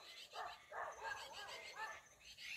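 A farm dog barks in short bursts, fairly faint and distant, near tall sorghum fields, with people talking over it.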